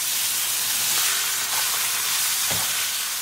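Pork frying on high gas in a pan, a loud, dense, continuous sizzle and hiss with a couple of faint stirring scrapes, close and no talking.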